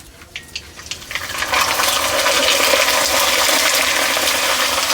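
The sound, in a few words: rice chips dropped into hot oil, deep frying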